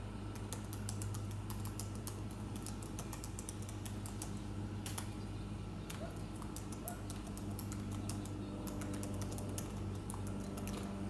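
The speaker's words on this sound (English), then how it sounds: "I just can't type. I miss keys. The keyboard's wore out almost." Typing on a worn-out computer keyboard: irregular bursts of light key clicks running throughout, fairly faint and close, over a low steady hum of room background.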